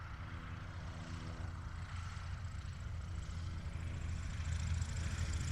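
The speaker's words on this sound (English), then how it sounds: "And another Cessna 172 on the horizon." A Cessna 172 propeller airplane flying on approach in Kentucky, its steady low engine drone and propeller hum continuous and fairly distant, slowly swelling toward the end, with no voices.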